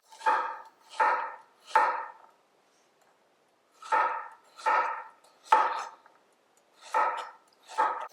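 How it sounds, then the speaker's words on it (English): Knife chopping carrots on a cutting board, the skinny parts cut in short bursts of three or so quick strokes separated by pauses, close and clear with no talking. "I'm going to start off by chopping the skinny parts."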